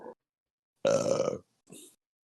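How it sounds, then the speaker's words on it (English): A single loud, guttural burp, close and dry, stands alone between short bursts of other sound during a podcast. "Very insensitive to burp in the middle of this segment here"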